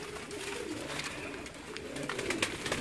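A large Chinese pigeon coos softly and repeatedly at close range, with a steady low murmur of other birds and faint background activity around it.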